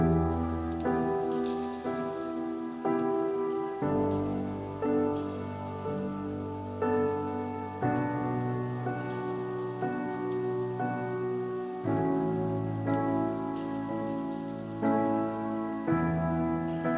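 Rain falls steadily across Saint Mark's Square in Venice with distant thunder, its patter blending under loud, continuous tonal music that dominates throughout.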